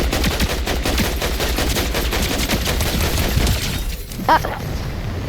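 Rapid automatic gunfire rattles almost continuously in a video game, a dense loud burst of shots that eases briefly near the end before a short sharp sound follows.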